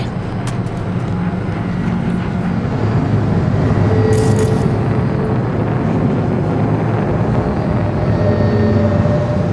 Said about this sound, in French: Un instant, c'est un drone.